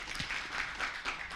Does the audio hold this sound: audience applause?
yes